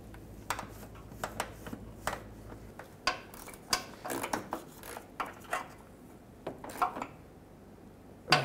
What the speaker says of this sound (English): Let's get the bolts for the lower shroud back in place.